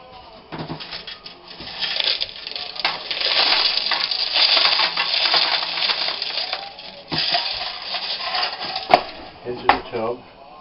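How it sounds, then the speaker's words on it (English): Gravel and glue are stirred together in a plastic tub for a model railway layout, a continuous gritty crunching and scraping close up that rises and falls, with a few sharper clicks near the end. "you just stir it up, making sure you get all the gravel covered in glue"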